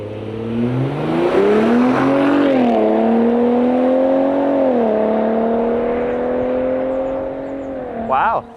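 A stock Ford Raptor truck engine revs hard on a dyno, climbing steadily in pitch, holding a loud sustained drone, then easing off before a brief final blip.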